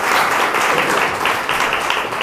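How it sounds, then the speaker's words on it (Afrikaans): An audience at a family camp applauds together, a steady, dense wash of many hands clapping at close range, continuous for a couple of seconds with no voices. "kom ons klap vir hulle hande"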